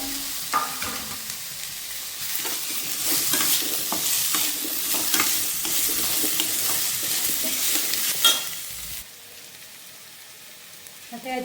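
Chopped tomato and cucumber fry in a pan with a bright, steady sizzle and repeated spoon-stirring scrapes, close by. The frying quiets abruptly near the end, leaving a low hush.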